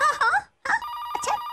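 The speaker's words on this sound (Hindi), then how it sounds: "मही, बेल बज रही है फोन की।" A phone rings with a bright electronic tone after a short burst of sound, the ring steady and close, filling the second half.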